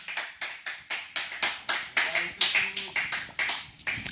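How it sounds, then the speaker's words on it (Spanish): A church congregation claps together in a steady, even rhythm, about two claps per second, loud and close, with voices and a faint tone underneath. "Denle palmas a Cristo si puede."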